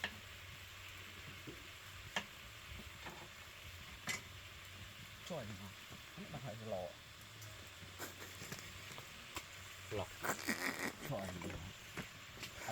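Quiet, steady sizzling of food frying in a pan with scattered ticks and scrapes, while voices talk intermittently over it.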